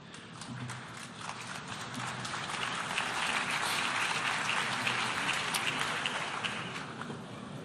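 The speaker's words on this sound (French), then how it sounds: "Je vous remercie pour vos applaudissements" An audience at the UN General Assembly applauds, a dense wash of clapping that swells and holds steady, then eases off slightly, heard at a distance and moderately quiet.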